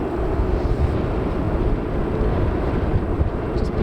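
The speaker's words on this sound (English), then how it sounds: "Airways Airbus A320 going to London Heathrow." An Airbus A320 airliner at Manchester Airport gives off a steady, loud, broadband engine roar that stays constant throughout, with no talking.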